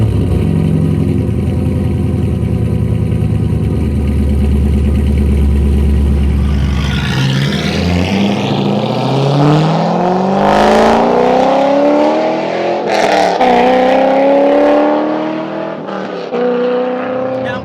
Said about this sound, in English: I'm gonna take you guys on my first ride in the C5 Corvette since I put that intake on